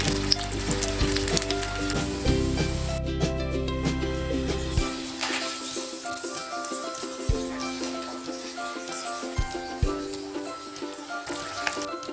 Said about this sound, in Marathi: तेल तापलं आहे तर लॉलीपॉप तेलात सोडून घेऊया